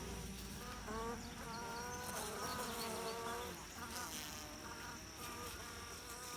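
Honeybees buzz steadily and close by during a July inspection of Layens and Langstroth hives, a dense, continuous drone with no voices.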